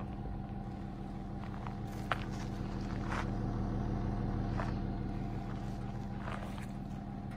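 A BMW 5 Series E39 525d six-cylinder diesel with 334,000 km, its muffler removed, idling in a steady low rumble close by, with a few faint clicks and knocks over the drone.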